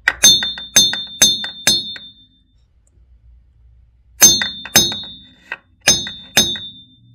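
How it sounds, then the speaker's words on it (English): A hammer strikes a drive shaft being shortened without special tools, giving bright ringing metallic clangs: four quick blows, a short pause, then another run of four or five blows, close and loud with no talking. "I shall hammer from the top."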